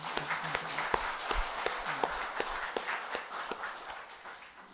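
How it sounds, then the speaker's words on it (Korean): Scattered clapping from a church congregation during a Sunday service, light and uneven, with individual claps standing out rather than a full roaring ovation. "우리 한 박수 한번 하시고."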